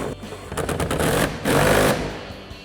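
A ratcheting 17 mm wrench rapidly tightens a clamp on a hard tri-fold tonneau cover rail of a RAM 1500, giving two quick bursts of clicking, close and fairly loud.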